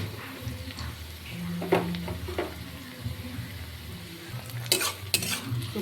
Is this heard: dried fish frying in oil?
yes